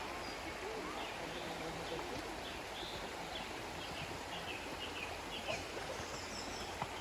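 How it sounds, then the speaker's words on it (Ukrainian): Steady rushing of a river below a viewing platform at a sanatorium, with scattered birdsong chirps above the broadband water noise; fairly faint and continuous. "Шум води, спів пташок."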